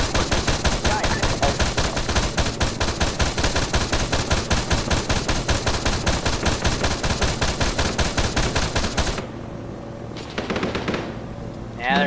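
A heavy gunfire exchange in the video game Arma 3: dense, continuous rapid automatic fire for most of the stretch, then it abruptly drops to quieter scattered sounds.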